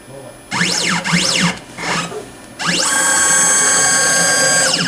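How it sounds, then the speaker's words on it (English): An Xtreme key cutting machine runs its calibration routine: motors whine up and down in pitch in repeated sweeps, pause briefly, then settle into a loud, steady mechanical whir, close and with no talk. "once we hit that calibrate button, the machine will go through its routine to set to calibrate the machine"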